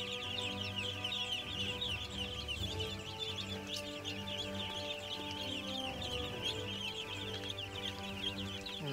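Many young ducklings raised on a small farm peep and cheep continuously in a dense, busy chorus, loud and close throughout.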